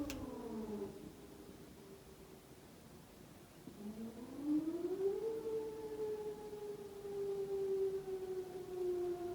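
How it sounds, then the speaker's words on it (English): A civil defense siren sounds during its scheduled yearly test, a long, steady wail that swells and rises in pitch before holding high, heard from a distance over faint background hiss. "I forget every year that this is the day they test the siren"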